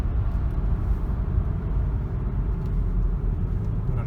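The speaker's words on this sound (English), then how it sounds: "What a nice riding vehicle." A 2007 SAAB 9-5 on the move, with a steady low engine and road rumble heard from inside the cabin at an even level throughout and no talking.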